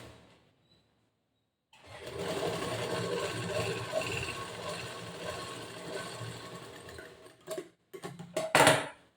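A sewing machine stitches the side seam of a boat neck blouse in a steady, moderately loud run that goes on for several seconds, then breaks into short start-and-stop bursts near the end.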